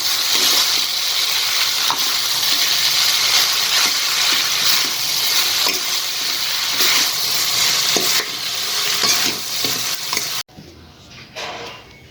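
Steady loud sizzling of chow mein noodles stir-frying with sauce and masala, with scraping and clinking of two spoons tossing them, then the sizzle drops away near the end.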